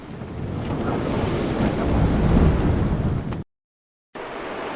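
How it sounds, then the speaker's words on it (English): A storm at sea roars with crashing waves and gusting wind, a loud, continuous rush broken by a brief silence near the end before the roar resumes. "Then there was a big storm."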